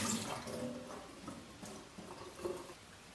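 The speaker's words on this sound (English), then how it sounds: "Pour out the solution in the bottom of the water distiller into a sink." Cleaning solution poured from the bottom of a water distiller into a sink, a soft trickling and splashing of liquid, fairly faint and close, with no talking.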